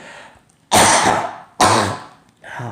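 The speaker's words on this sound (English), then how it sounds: "that's just a cough" Two loud, close coughs burst out one after another, followed by the start of a softer third, each a harsh broadband bark from a person at close range.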